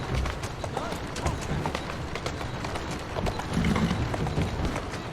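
Rapid hoofbeats of a galloping horse in the video game Assassin's Creed Syndicate drum steadily over a noisy backdrop, with a voice talking over them.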